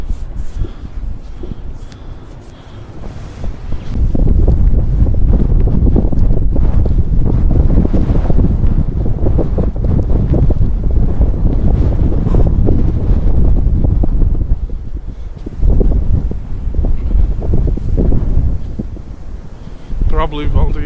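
Strong gusting wind in a snowstorm in the open Netherlands countryside, roaring loudly against the microphone in a sustained rumble that briefly drops and surges again, with a voice talking underneath.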